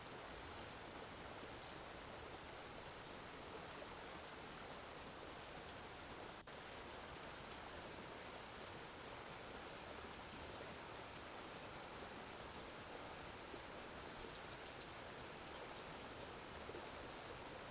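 Steady broadband rush of a flowing stream, continuous and even for the whole stretch, moderately distant with no voices.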